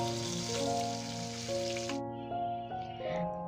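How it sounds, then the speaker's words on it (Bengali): Eggplant and hilsa fish frying together in a pan give a steady close sizzle throughout, with a constant background hum and brief clinks, and the hiss thins out partway through. "এই যে বেগুন আর ইলিশ মাছ আমি একসাথেই ভেজে নিচ্ছি"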